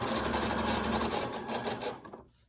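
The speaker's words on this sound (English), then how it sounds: "So I'm going to sew just another 2 inches or so." A sewing machine stitches fabric for a chicken-shaped grocery bag holder in a steady, fast whirring run of close stitching that slows and stops near the end, with no talking.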